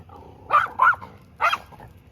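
A dog outdoors in Mexico gives three sharp barks, two in quick succession and then a third after a short pause, fairly close and clear over low ambient rumble.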